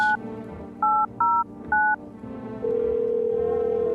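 Telephone number dialed in a video game: a quick series of clear electronic keypad tones in short bursts, followed by a steady ringing or line tone, with no talking.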